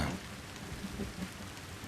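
Steady rain splashes and patters in the dark fantasy game Mandragora: Whispers of the Witch Tree, a dense continuous wash with no voices.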